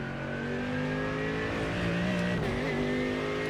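A GT3 race car on track braking and accelerating out of a corner, its engine a steady loud drone with the pitch dipping under braking and then climbing again, heard from inside or close by with no talk.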